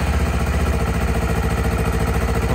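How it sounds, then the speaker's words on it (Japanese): A Honda CBR250RR motorcycle engine runs close by at a steady, rumbling idle, with a low, even throb and a faint mechanical clatter throughout. "エンジン始動していきたいと思います"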